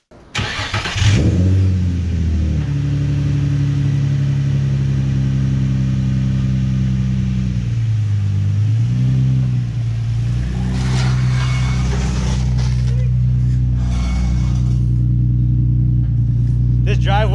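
A car on a test drive after an engine mount replacement, its engine droning loud and steady with rising and falling revs as it pulls away and cruises, heard from inside the cabin.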